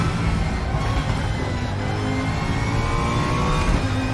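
Race car engine in the RaceRoom sim roaring steadily at high revs while lapping the Nürburgring Nordschleife, loud, close and continuous with no pauses.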